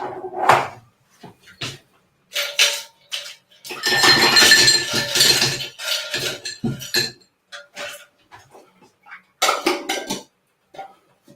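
Ice cubes clink and rattle against a glass in several short bursts, with a longer, denser jangle in the middle, separated by brief quiet gaps.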